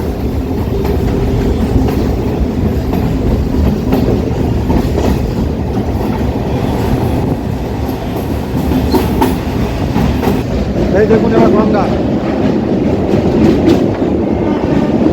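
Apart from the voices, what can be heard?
Kolkata Chakrarail suburban train running beside the Ganges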